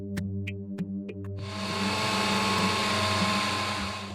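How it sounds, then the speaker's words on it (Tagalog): A kitchen blender switches on after a few clicks and runs at a steady high whir, close and loud, blending food meant for tube feeding, with a constant hum underneath and no talking. "Ang pagkain ni Josel, kinakailangang i-blender"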